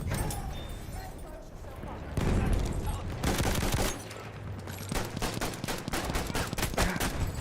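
Repeated sharp pistol shots in a video game, a run of close cracks at irregular intervals, mixed with game background noise and someone talking over them.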